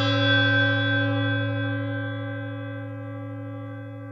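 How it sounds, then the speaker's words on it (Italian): Tibetan singing bell struck once and left to ring, its deep fundamental and stacked clear overtones sustaining evenly and slowly fading over several seconds, close and alone. "se la campana è molto buona può suonare chiaro tutto intorno, come tutte le campane tibetane, ma anche sotto, con il fondo"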